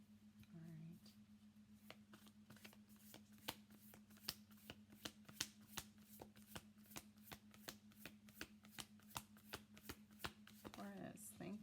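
A tarot deck is shuffled by hand in a long run of quick, crisp riffling snaps, steady and close, over a low electrical hum, with brief talk at the start and end.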